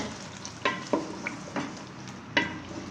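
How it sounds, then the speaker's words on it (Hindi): Spinach and potatoes for aloo palak are stirred in a pan with a spatula: quiet, separate scraping strokes over a low sizzle, about half a dozen in a few seconds. "अब इसको मिक्स करेंगे"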